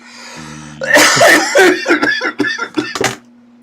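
A person coughs in a series of harsh, close bursts, several short hacks in a row, with a background hum underneath.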